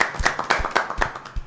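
A small audience at a podcast taping claps their hands, with quick, close, uneven claps in a short burst.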